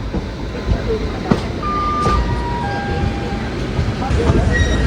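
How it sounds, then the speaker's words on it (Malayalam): The Thiruvananthapuram North–Bhavnagar Express passes near Shoranur Junction in Kerala: a steady, loud rolling rumble of wheels and carriages fills the whole stretch, with a few faint tonal whines and clanks over it. "തിരുവനന്തപുരം നോർത്ത് ഭാവ്നഗർ എക്സ്പ്രസ് ആണ് കേട്ടോ അത്."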